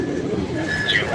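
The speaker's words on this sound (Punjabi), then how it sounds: "ਜੌਨਸਰਾ ਕਬੂਤਰ ਹੈ, ਕਲਸਰਾ ਕਾਲੀ ਦੁਮ ਦਾ" A pigeon, a black-tailed kalsara type, coos softly and close by over a brief moment, its low throaty burble steady beneath a faint background hum.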